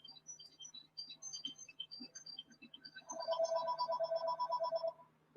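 A phone rings during a baseball replay broadcast, a faint repeating electronic trill that rises to a steady patterned ring for a couple of seconds over quiet background.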